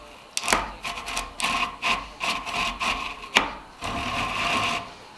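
A Japanese hand saw cuts a timber frame mortise in irregular rasping strokes, close and distinct, with short pauses between the pulls and one longer steady stroke near the end.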